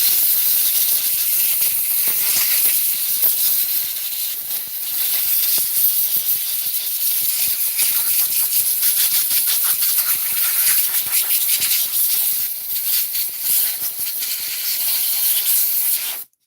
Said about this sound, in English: Last of the quiet compressor here, the quiet man.